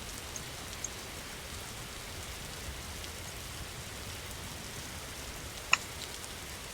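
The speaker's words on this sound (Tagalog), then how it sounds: "Ulan." Steady rain hiss in a Roblox game, an even broadband wash running throughout with a single sharp tick near the end, no voices present.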